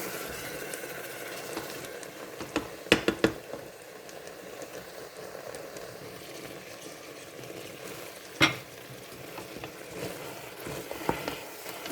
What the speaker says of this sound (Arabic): راكم تشوفوا راه تقلى مع البصل، حمر فيه شويه.